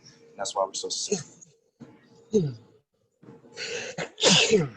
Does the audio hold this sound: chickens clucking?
no